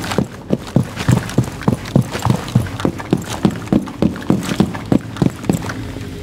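Rapid sprinting footsteps of a character in the Rainbow Six Siege video game, a steady run of evenly spaced thuds, close and fairly loud, with no talk.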